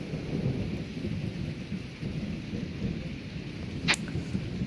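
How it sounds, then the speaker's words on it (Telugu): Rain falling during a thunderstorm with hail, a steady wash of rainfall with low rumbling underneath and a sharp crack near the end, moderately loud and continuous. "ఇక్కడ వాన పడింది, తర్వాత వడగళ్ళ వాన పడింది"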